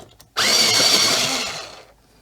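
An electric pencil sharpener whirring on a colored pencil, a sudden close motor grind that holds for about a second and then winds down, with no speech.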